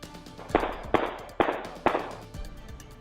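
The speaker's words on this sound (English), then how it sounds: "You can hear those gunshots there on that doorbell camera video." Four sharp gunshots crack out in a southeast-side neighborhood during a drive-by shooting, caught by a doorbell camera, spaced about half a second apart and each trailing a brief echo, with faint outdoor ambience between.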